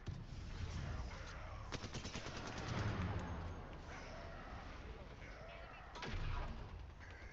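Rapid bursts of gunfire crackle through a tense Apex Legends firefight, loud and close, with a volley near the start and a sharp shot again toward the end over dense game noise.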